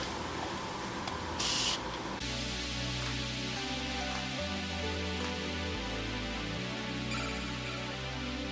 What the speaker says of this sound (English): we're just gonna spritz the wig.